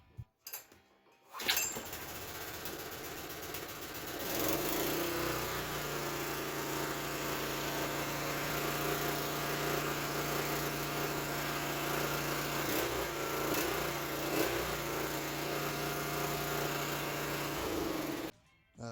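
A Honda GX small engine on a generator, running after a carburetor cleaning, starts with a brief pull and cough, then settles into a steady, fairly loud buzzing idle close by before cutting off at the end.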